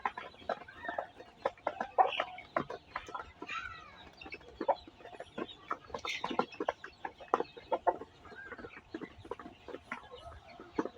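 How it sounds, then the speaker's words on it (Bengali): Young chickens on a farm cluck steadily in a busy, overlapping flock, with many short calls close by over a low background. "ওখানে আমাদের ছোট মুরগিগুলা"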